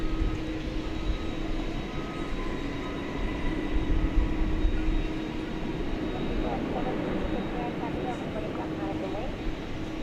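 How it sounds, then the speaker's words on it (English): An MD-11 moves along the ground at DFW Airport at night, its jet engines producing a steady, fairly loud droning rumble with a faint tonal hum, continuous throughout. "Let's just take a peek here. At the MD-11."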